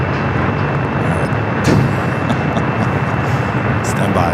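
A Boeing 747-8 Intercontinental roars through a north side takeoff at Los Angeles airport, a loud steady broadband jet rumble filling the scene with faint voices over it.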